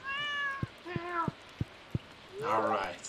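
A cat in the Stardew Valley video game gives a couple of short meows alongside soft dripping rain ticks; a voice speaks over the scene.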